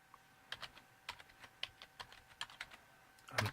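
Fingers tapping on a computer keyboard, a quiet, uneven run of distinct keystrokes close by, ending with a slightly louder cluster of presses.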